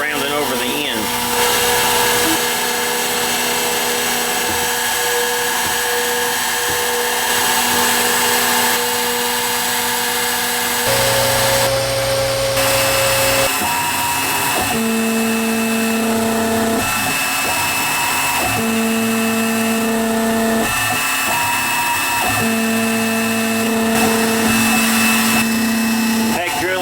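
A Grizzly G0602 lathe turns a ball screw for a Z axis while the cutter rounds over its end: a steady machine whine with shifting pitched tones, close and fairly loud throughout.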